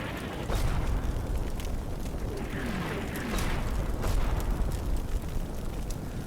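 Enemy artillery barrage in the wargame Combat Mission Shock Force 2, a steady roar of rumbling blasts and booms with a few louder swells, continuous and fairly loud throughout.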